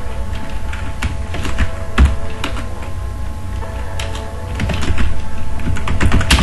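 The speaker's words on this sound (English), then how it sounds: "Now type the text like" Steady, fairly loud clicking of keys on a computer keyboard as text is typed into an HTML page, with a continuous rapid patter and occasional heavier keystrokes.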